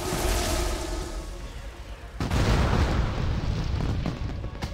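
A video game explosion in World of Warcraft, set in Azshara: a roaring, bass-heavy rumble that bursts in suddenly midway and keeps churning loudly to the end, with no clear talk over it.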